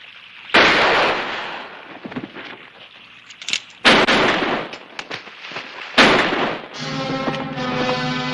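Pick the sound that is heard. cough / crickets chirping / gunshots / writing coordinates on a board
gunshots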